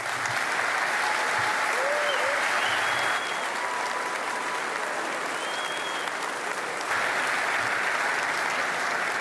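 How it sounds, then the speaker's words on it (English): Sustained applause fills a rally hall as a crowd claps loudly and evenly for several seconds. Faint whoops and cheers rise now and then above the clapping. "please give a big round of applause for Lewis Clark from Region 1"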